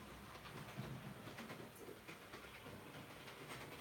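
A newly unboxed model train locomotive runs along its track with a faint, continuous light clatter and soft hiss, steady and quiet throughout.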